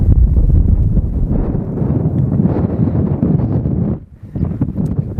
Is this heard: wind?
yes